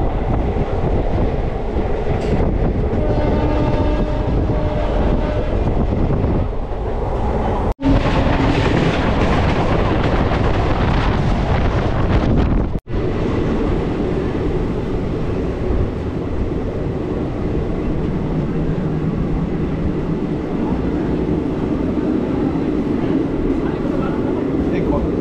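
An Independence Day special train to Digha running at high speed near Uluberia gives a loud, continuous rumbling roar with rattling wheels. Two sharp breaks interrupt it, and the tone shifts as it passes something.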